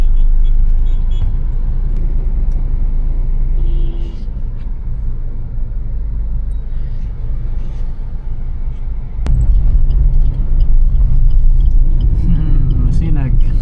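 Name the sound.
road traffic in Masinag, Antipolo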